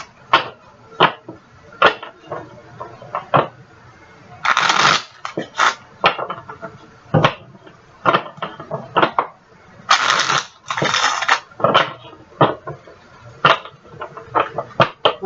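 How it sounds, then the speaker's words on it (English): A deck of tarot cards is shuffled by hand at close range, giving repeated papery riffles and slaps in irregular bursts with short pauses between, and no talking over it. "so let me just give these one quick shuffle."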